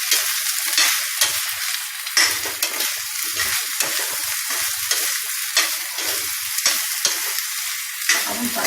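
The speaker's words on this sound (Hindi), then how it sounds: "कद्दू डालेंगे, फिर इसको हम चलाते रहेंगे।" Pumpkin frying in hot oil in a pan, with a steady loud sizzle and intermittent scraping thuds as it is stirred throughout.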